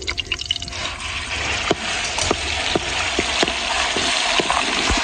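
Onion paste frying in a pan for egg korma: a continuous close, bubbling sizzle with sharp spattering pops and a few clicks scattered throughout.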